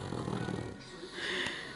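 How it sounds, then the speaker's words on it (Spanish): A dog snores nearby with a soft, rough, rumbling breath followed by a brief wheezy, higher snort. The sound is faint and intimate, with no clear speech. "Estás tú roncando, Romediale? Es que yo este perro me lo como"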